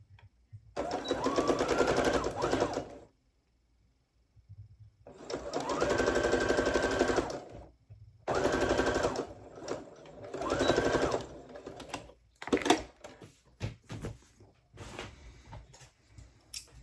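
A sewing machine stitches men's pants of plaid fabric in four loud, close bursts of rapid whirring separated by short pauses, followed by quieter clicks and handling noises.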